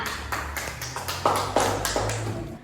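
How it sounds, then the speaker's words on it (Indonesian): A few classmates clap in a classroom Quran-reading lesson: a short run of distinct, fairly close hand claps with uneven spacing over a low background hum. "Beri tepuk tangan"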